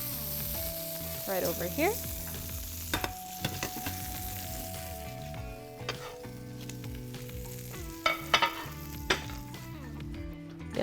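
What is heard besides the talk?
burger patty sizzling as it is added to the pan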